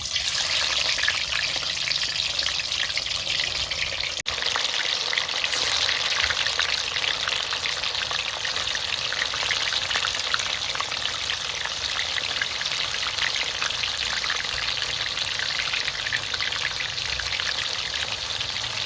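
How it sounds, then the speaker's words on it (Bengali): Paneer pieces frying in hot oil, a continuous, even sizzle and crackle resembling rainfall that holds steady for the whole stretch, with no voices. "এই আমি পনিরগুলো আগে অল্প করে ভেজে নেব"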